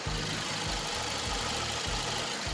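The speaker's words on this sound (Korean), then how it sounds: "영상으로 엔진 소음 한번 담아보도록 하겠습니다" Samsung SM6 gasoline sedan engine idling with the hood open, a steady low mechanical hum with a faint pulsing rhythm, close and continuous with no voices.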